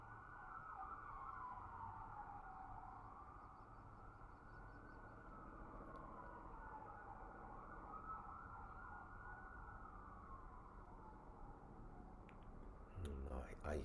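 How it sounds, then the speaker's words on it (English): Sirens wail in the distance, rising and falling in slow sweeping cycles over a low rumble of traffic, faint but continuous, with a brief louder clatter at the very end. "I hear sirens of helicopters"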